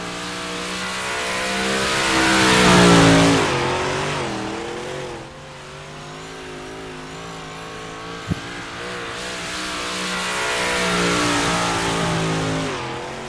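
Modified race cars in the iRacing simulator, 358 Modified series, accelerate hard: loud engine revving swells, fades as the cars pass, then builds again, with one brief sharp knock in between.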